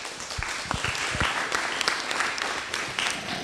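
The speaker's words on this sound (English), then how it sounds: "Give them an applause, yeah." An audience at a civic roundtable meeting gives a short round of applause, steady moderate clapping filling the room for a few seconds.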